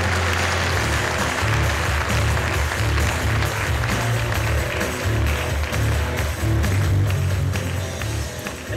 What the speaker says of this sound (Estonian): Suur aplaus!